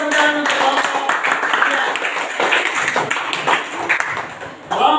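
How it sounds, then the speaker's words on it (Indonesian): Classroom clapping for a student group, a small crowd of hands patting steadily through the clip, fairly close, with voices mixed in. "Kita tepuk tangan untuk kelompok 3."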